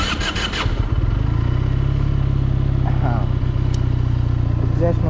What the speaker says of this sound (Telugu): ఎగ్జాస్ట్ నోట్ అయితే ఇదే అన్నమాట